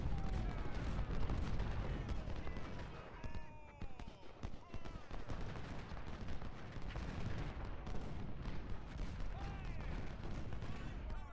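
Civil War artillery and massed musket volleys in Ultimate General: Civil War, with heavy repeated booms and crackling rifle fire rolling continuously through a loud battlefield din under a man's speech.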